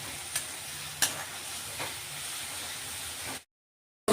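Asafoetida (hing) sizzles in hot oil for a potato curry, a steady close frying hiss with a few soft clicks of stirring, then a brief cut to silence near the end.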